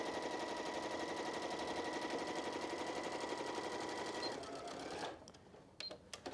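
A sewing machine stitching a fabric button-up pouch, running in a fast steady stitching whir for several seconds before slowing and stopping, followed by a few short clicks and bursts, close and loud.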